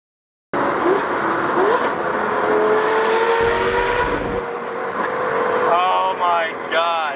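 A straight-piped Lamborghini Gallardo Superleggera roars loud and close from inside while driving, its engine droning and rising with throttle, and voices break in briefly near the end.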